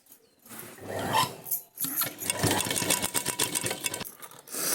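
Sewing machine stitching a hook onto a blouse, a fast rasping run of stitches that starts, pauses briefly, then continues steadily and close by.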